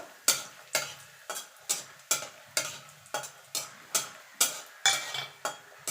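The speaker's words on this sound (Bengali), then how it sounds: "বড়িটাকে একটু লাল লাল করে ভেজে নেব" Lentil dumplings (bori) fry in oil in a wok, with a regular series of sharp spatula scrapes about twice a second over a soft sizzle, close up and alone.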